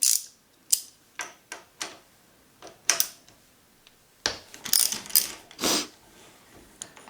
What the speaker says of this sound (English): there's going to be a bolt that you remove from the bar end, remove the bar end weight here